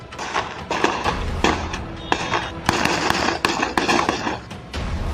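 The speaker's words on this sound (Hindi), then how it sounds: "गोलीबारी होने लगी।" Rapid bursts of gunfire during a gang clash between the Sonu Monu gang and Anant Singh's side at Naurangа Jalalpur, loud sharp cracks and pops in irregular volleys throughout.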